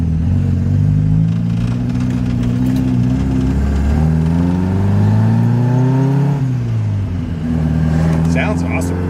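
Alfa Romeo engine running and pulling away, a loud close-up drone with engine tones climbing and falling through gear changes, steady and continuous throughout.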